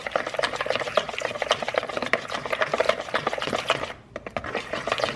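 Eggs and gluten-free brownie mix being whisked together in a bowl: a fast, continuous scraping and clicking rhythm that runs steadily, close and fairly loud, with a brief pause near the end before resuming.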